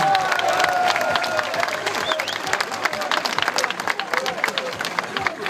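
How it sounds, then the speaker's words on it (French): A fan-day crowd at Sporting de Charleroi's open house claps for football player Jamal Thierry, steady rapid hand claps from many people with some voices, moderately loud throughout. "Applaudissements pour Jamal Thierry"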